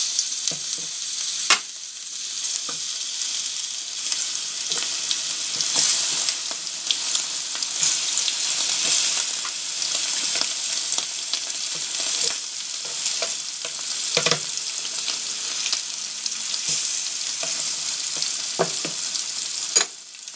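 Chicken fries in a little oil with a constant loud sizzle and crackle. Scattered pops and stirring clicks run throughout, close up and with no talk.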